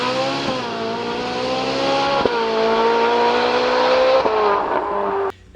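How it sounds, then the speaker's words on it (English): Ferrari 458 Italia with a naturally aspirated V8 revving hard, its high-pitched engine note climbing through the revs with brief dips at shift points before cutting off abruptly near the end. "The 458 Italia was the final naturally aspirated, high-revving Ferrari that sounded like a Ferrari."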